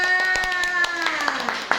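Children clapping hands in a classroom, a rapid series of sharp claps heard over a sustained voice.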